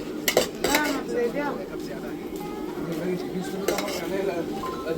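A spoon clinks and scrapes against a dish of idli and curry aboard a Volvo sleeper bus, giving a few sharp metallic taps in the first second and later ones. Low, steady road rumble runs beneath, with faint voices.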